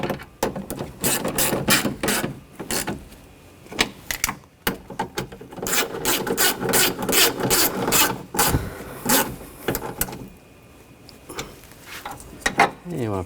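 Bolts are run down and snugged on a rear window regulator of a 2000-2006 BMW X5, giving dense, close ratchet clicking in quick bursts with brief pauses between them.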